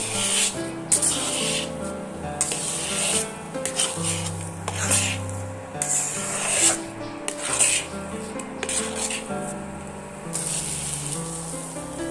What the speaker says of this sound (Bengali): আবারও এইভাবে নাড়তে থাকবো যখন দেখব কড়া থেকে সুজিটা ছেড়ে দিচ্ছে